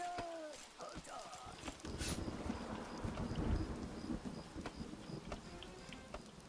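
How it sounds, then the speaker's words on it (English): Steady rain falls with low rumbles of thunder rolling underneath, fairly quiet and continuous. "a little bit of rain is on the way in"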